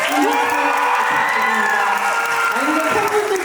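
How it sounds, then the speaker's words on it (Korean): An audience cheers and shouts at a Busan International Film Festival Q&A for the film Broker, a loud sustained crowd roar with whoops rising and falling over a few seconds. "팬분들뿐 아니라 진짜 부산 영화제 팬분들이 다 모이니까 이 정도의 함성이 나오는군요"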